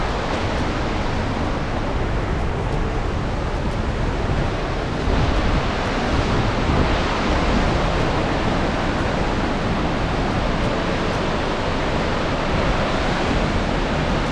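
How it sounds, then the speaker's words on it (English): Steady, dense roar of an Icelandic waterfall, continuous and loud throughout with a slight wind rumble, no talking. "waterfall."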